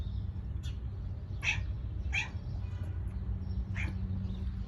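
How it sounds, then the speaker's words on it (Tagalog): A cat meows four times in short, scattered calls, fairly faint against a low, steady background hum. "nag-iingay din ang pusa dito"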